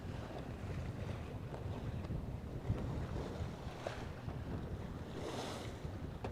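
A sailboat beating into the wind on open water, with steady gusting wind buffeting the microphone and waves washing against the hull, continuous and fairly loud.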